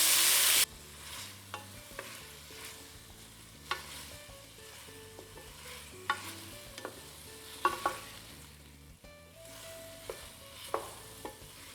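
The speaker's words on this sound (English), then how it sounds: "So I'm gonna add this in. Stir that in with the garlic." A spatula scrapes and taps through halved cherry tomatoes and garlic in olive oil in a pan for a quick pasta sauce, with intermittent clacks over a faint sizzle and a loud burst at the very start.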